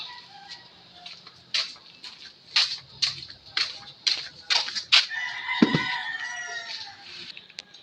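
A roaming chicken near a garden plot clucks in a string of sharp, repeated calls, fairly close, with a longer drawn-out cry in the middle and quieter background sounds.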